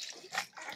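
Water splashes and sloshes around a baby during a full bath, a few short close splashes and trickles in quick succession with no voices over them.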